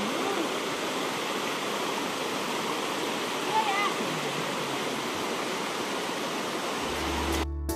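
A river rushes under the border bridge between Baduy Dalam and Baduy Luar with a steady, broad roar of flowing water, ending in a short handling knock.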